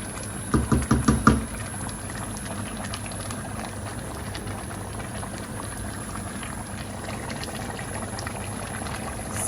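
Chicken karahi masala bubbles on a high flame, a steady soft sizzle and pop of thickening gravy, with a short burst of louder clattering spoon strikes near the start.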